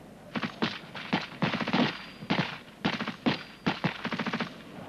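Rapid rifle and machine gun fire during an infantry section drill, loud clustered bursts of shots repeating in quick succession with short gaps between volleys.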